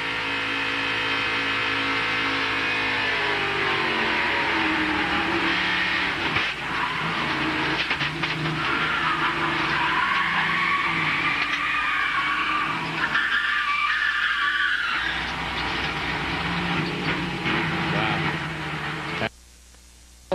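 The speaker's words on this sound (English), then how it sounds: "Now for Matt Kenseth in-car camera. He's going to hit something. Just listen." A NASCAR Busch Series stock car at Daytona or Talladega skids and crashes in a multi-car wreck, heard from the in-car camera, with a loud droning engine, a long scraping tire screech and grinding impacts before an abrupt cutoff.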